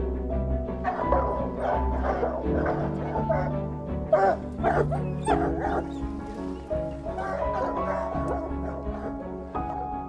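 Hunting dogs bark and yip repeatedly in an outdoor setting in cold, damp conditions, several animals overlapping at moderate distance over a constant low rumble.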